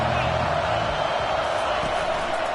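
Stadium crowd noise from the College Football 25 video game: a steady, dense roar of many fans that fills the whole stretch at an even level, with no single voice standing out.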